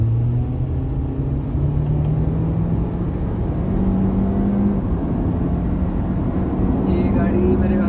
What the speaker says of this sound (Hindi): अच्छा मैं ज़रा गाड़ी को थ्रोटल दे के देखता हूँ